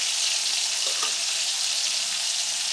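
Tomato and spices, turmeric among them, sautéing in a pan for a cabbage and pea masala, giving a steady close frying hiss that runs without a break, with a brief scrape or stir partway through.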